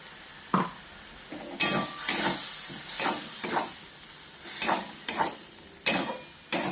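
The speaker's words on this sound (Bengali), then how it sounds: "ভালো করে নেড়ে মিশিয়ে নেব" Fried bitter gourd and onions with mustard and green chili paste are stirred in a pan, sharp scraping strokes repeating about once a second over a soft sizzle, with no talking.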